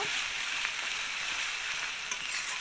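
Dried red chillies, cumin, bay leaf, onion paste and garlic paste sizzle steadily in hot oil for a Bengali chicken kosha, a dense, continuous frying hiss with faint stirring scrapes and no talk.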